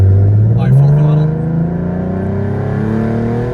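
Supercharged 2014 Ford Mustang with a 3.7L V6 at full throttle, a loud close engine drone whose pitch climbs steadily as it accelerates, with a brief voice near the start.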